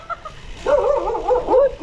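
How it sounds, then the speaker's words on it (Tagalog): Several dogs bark and yelp along a ride route near San Rafael, Zambales, sounding close in a loud, uneven run of overlapping calls. "Napakaraming aso, mga be."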